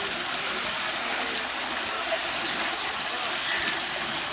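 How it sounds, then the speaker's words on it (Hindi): Water runs steadily through a channel in the Mughal Garden at Wah Cantt, Pakistan, carried onward to the garden's plants and trees, a continuous close rushing wash with no pauses. "आगे बाग में जाता है सारा पानी"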